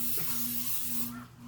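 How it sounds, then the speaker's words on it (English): Pam cooking spray hisses steadily from an aerosol can, greasing a 3-quart baking dish, one continuous close spray that tapers off at the end over a low background hum. "instead of using butter, I'm using a Pam spray"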